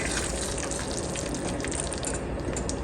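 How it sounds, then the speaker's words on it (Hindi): Water is poured into a pan of spicy Hyderabadi eggplant curry to make the gravy. It gives a steady, loud gushing and sizzling hiss that runs unbroken throughout. "थोड़ा सा ग्रेवी के लिए पानी आपको जितना चाहिए होगा आप उतना डालिएगा"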